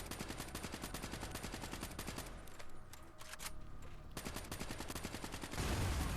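Rapid automatic gunfire from the game Call of Duty Black Ops 3 on a mission with enemy soldiers. Fast bursts of shots run with a short lull in the middle, then heavier firing resumes, fairly faint overall.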